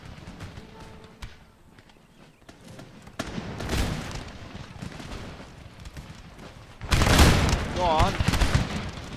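Musket regiments firing volleys in the Empire Total War battle of Damascus, a loud broadband crackle of massed fire swelling near the end, with scattered shots earlier and someone talking over the battle.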